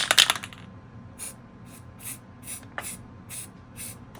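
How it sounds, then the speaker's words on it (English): Paint sprayed from an aerosol can during house painting, heard as several short, separate hissing bursts at a close, quiet level, with a louder rattle or hiss at the start. "and then let's spray it"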